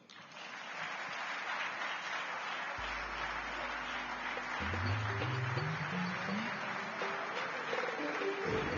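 Sustained audience applause fills a Nigerian governance and democracy forum, a steady dense wash of clapping with a low sustained tone entering partway through.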